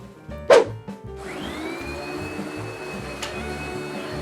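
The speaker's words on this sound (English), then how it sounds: "Turn off the vacuum." A household vacuum cleaner starts up with a loud thump and then runs in a steady, droning whine, close by and continuous, with a brief sharp knock partway through.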